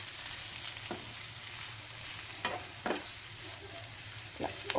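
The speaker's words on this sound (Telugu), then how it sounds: "మనం ఇట్లా కలుపుకొని కొంచెం కారం వేసి కలిపేసుకుందాం" Eggplant curry with chili powder fries in a pan under a low, continuous sizzle, broken by a few sharp spoon scrapes and stirs, close by with no talk.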